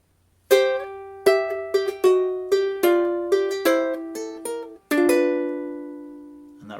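A fingerpicked acoustic guitar plays a two-bar turnaround: clear plucked notes ring out in a steady rhythm, closely recorded and solo, ending on a sustained chord with no talking.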